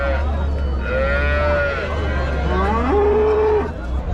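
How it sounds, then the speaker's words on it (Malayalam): Cattle at a market, large heavy cows that have calved, give two long, close, loud moos, one after the other, over a steady low rumble of background noise. "രണ്ടും പ്രസവിച്ച അടിപൊളി ഹെവി സൈസ് പശുക്കളാണ്."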